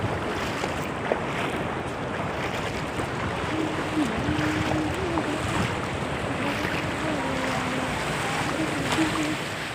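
Steady broadband rush of a river flowing near a village, continuous and fairly loud with wind-like texture and no clear talk throughout.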